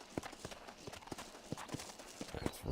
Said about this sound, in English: The horse is struggling to get up this hill, but that's my fault because I'm pushing him up here.